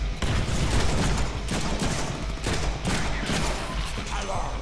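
Gunfire in the Deadpool video game after a switch to the pistol, a loud, dense run of overlapping shots with booming low impacts, steady throughout with no break.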